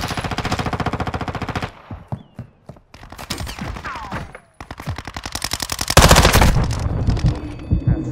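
Rapid machine-gun fire in a video game, long loud automatic bursts broken by short pauses, close and harsh, with a heavier burst near the end.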